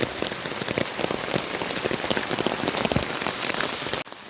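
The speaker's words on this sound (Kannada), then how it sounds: "ಇಷ್ಟು ಜೋರು ಮಳೆ ಬರುವಾಗ ಹೋಗಬಾರ್ದು ಮಕ್ಕಳೆಲ್ಲ" Heavy rain pours down steadily on a flooded plantation, a dense close patter of drops drumming on surfaces, cutting off abruptly at the end.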